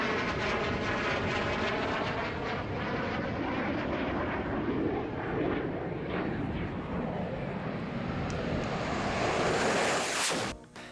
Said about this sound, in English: This A-37B flying really close to the ground